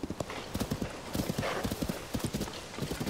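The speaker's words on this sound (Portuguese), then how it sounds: "Esse cavalo é muito lindo, de todo pretão, mano." A black horse in Zelda: Tears of the Kingdom, fitted with a royal saddle and bridle, trots with crisp, steady clip-clop hoofbeats, close and fairly loud, and gives a brief whinny partway through.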